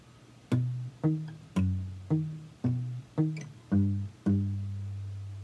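Eight plucked notes of Travis-style acoustic guitar form one measure of a song, a steady alternating-bass pattern picked up close, each note decaying before the next and the final one sustaining.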